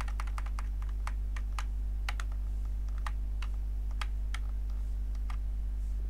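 Computer keyboard Shift key pressed again and again during 3D modeling work: a series of sharp, distinct clicks in an uneven rhythm, up close, over a constant low electrical hum.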